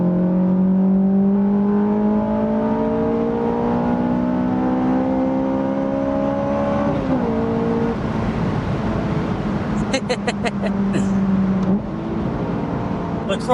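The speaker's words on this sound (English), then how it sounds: "The crossover noise on an F-Series engine." A 2000 Honda S2000 AP1 with its F-Series engine revs up hard through the VTEC crossover, the engine note climbing steadily, easing briefly and rising again, loud and close, with a faint voice near the end.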